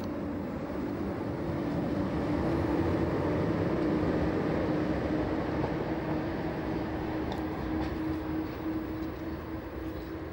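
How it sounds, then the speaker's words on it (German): An Intercity train hauled by two class 120 electric locomotives rumbles steadily past with a low, sustained drone of locomotives and rolling wagons, fairly loud throughout. "Gleich zwei 120 befördern diesen Intercity."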